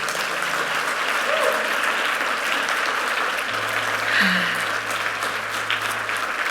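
Church congregation applauding together after a closing prayer, a steady, dense clapping that fills the room and holds for several seconds without letting up.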